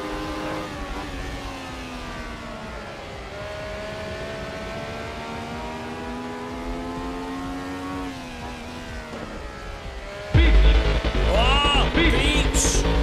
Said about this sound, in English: I'm listening to the engine, it's all I need to hear.